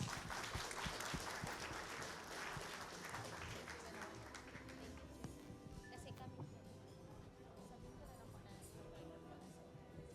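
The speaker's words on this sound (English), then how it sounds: "Let's give him a round of applause." A seated audience at an evening reception honoring a Philippine Coast Guard rear admiral breaks into steady applause, a dense wash of clapping sustained for about ten seconds, moderately distant and fading slightly toward the end.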